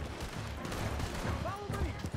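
Rapid gunfire crackles through a chaotic shootout in Red Dead Redemption 2, fairly faint and mixed with shouting voices and horse and movement noise.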